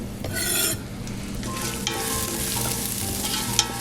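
Garlic and shallots sizzle steadily in a pan for cioppino while a spoon stirs them, the frying hiss loud and close with scraping strokes on top and no talking.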